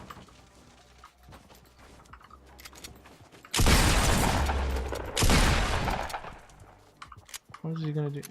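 Shotgun blasts in Fortnite Battle Royale, two loud close bursts of gunfire a couple of seconds apart, standing out from quieter game sounds and someone talking over the action.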